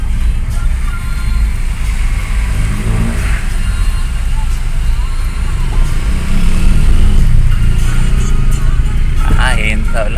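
Road traffic crawls through Manggahan, General Trias, Cavite, with close car and motorcycle engines idling and revving in a continuous loud rumble while people talk nearby.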